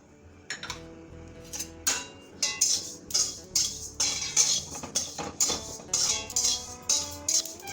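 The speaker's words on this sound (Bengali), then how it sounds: "এখন আমি এই জিরেগুলো ভেজে নেব" Cumin seeds roast in a pan while pickle spices are prepared; a utensil repeatedly scrapes and clinks against the metal in a steady, rhythmic stirring pattern, close and clear with no voices.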